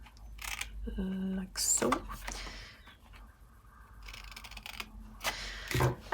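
Scissors cutting a paper template for a Matchbox mini, a few short crisp snips close by, with a person speaking briefly in between.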